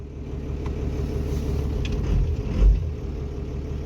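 A dually pickup truck engine idles with a rough, uneven rumble, surging briefly louder near the end as if struggling to stay running.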